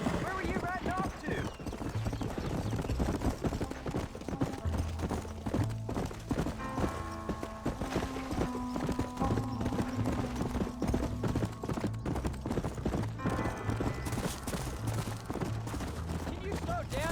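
Steady clip-clop of horse hooves plays throughout a ride in Red Dead Redemption, a close, rhythmic trot under background music and talking voices.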